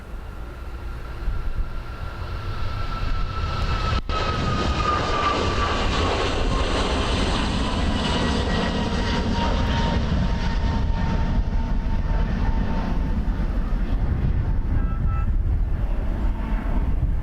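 A Dubai Air Wing Boeing 747 takes off at Dublin Airport with a steady, loud, broadband engine roar that holds for the full seventeen seconds, a faint whine sliding downward within it, and no talking.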